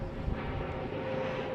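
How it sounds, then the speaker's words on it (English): Steady low broadband roar of an airplane passing overhead near an international airport, continuous and moderately loud, with no talking. "The airplanes are going to be a part of my videos because they are constant."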